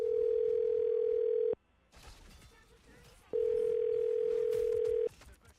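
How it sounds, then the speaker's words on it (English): Telephone ringback tones heard while calling a phone number: two long, steady, loud beeps of about two seconds each, separated by a quiet gap with faint background sounds. "I'm dialing his phone number right now"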